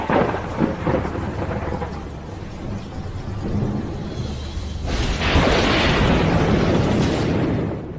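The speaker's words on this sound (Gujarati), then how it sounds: "વીજળીના કડાકા ભડાકા" Thunder crashes and rumbles during a heavy rainstorm, a long loud roll with a sharp burst partway through and rain hissing steadily underneath.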